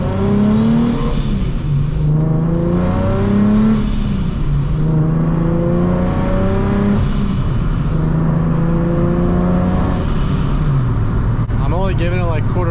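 A vehicle engine fitted with an A2A cog kit and blow-off valve accelerates at light quarter throttle, its pitch climbing repeatedly through gears in rising sweeps, loud and close, while a person talks over it.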